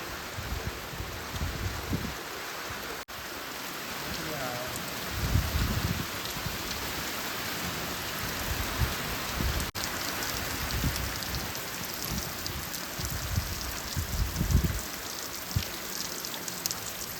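Steady heavy rain pours down continuously, with low gusty rumbles of wind swelling now and then beneath the hiss.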